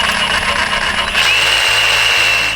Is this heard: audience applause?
no